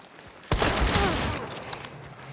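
Video game shotgun fire lands as a sudden loud blast that rings out into a noisy rolling decay, close and dominant, with no speech over it.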